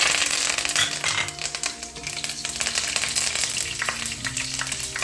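Chillies and curry leaves frying in hot oil, a dense continuous crackling sizzle with rapid popping, close and steady throughout.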